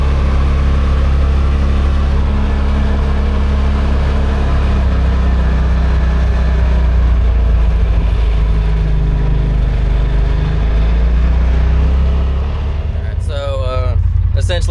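A Pro XP side-by-side with a gear reduction runs on a road test, its engine a loud, steady, close drone and rumble that eases slightly near the end, with a brief burst of talking at the close.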